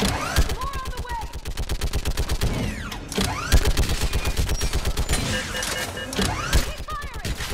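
A Mass Effect 3 battle fills with rapid automatic gunfire, a dense continuous rattle of shots mixed with whooshes and weapon effects, loud and close throughout.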